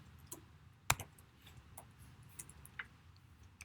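Keys on a computer keyboard tapped in sparse, irregular bursts close by, with one sharper click standing out over a quiet room hum.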